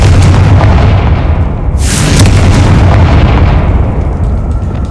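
A Confringo fire spell bursts in Hogwarts Legacy, a sudden loud blast near the two-second mark over a dense, rumbling wash of combat noise that stays loud throughout.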